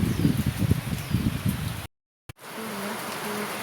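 Heavy rain and strong wind in Taiwan, with lightning around, make a dense, close roar of drumming rain that cuts out abruptly partway through, then returns as a softer, steady wash.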